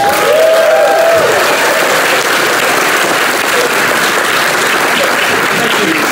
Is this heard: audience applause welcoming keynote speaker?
yes